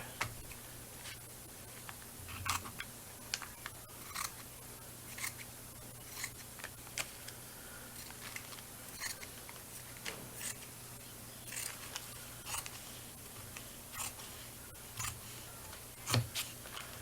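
Scissors snip paper for a handmade junk journal cover, a slow series of faint, crisp cuts spaced a second or so apart over low steady room hum.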